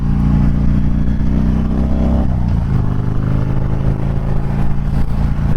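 A custom Harley-Davidson Fat Bob rumbles loudly underway, its deep steady engine note shifting pitch slightly partway through as the rider eases off and rolls on again.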